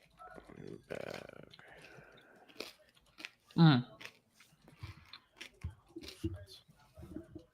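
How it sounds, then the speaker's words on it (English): Food being chewed close to the mic during a live football watchalong, with irregular soft crunchy bites and mouth noises scattered among people chatting over the broadcast. "Sorry for the chewing ASMR"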